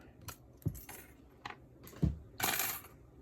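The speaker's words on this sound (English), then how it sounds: "Taking some snips, and then we're gonna snip it." Metal snips cutting silver for a moss agate ring at a jeweler's bench: a few sharp close metallic clicks and snips spaced unevenly, with light clinking handling sounds between them.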